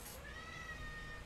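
A single drawn-out cat meow, quiet and fairly close, with a faint steady hum underneath.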